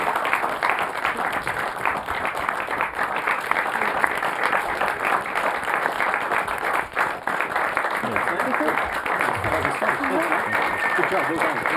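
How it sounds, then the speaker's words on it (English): An audience claps for lecturers and support staff, a steady, loud round of applause sustained throughout with no break. "please give them a massive round of applause"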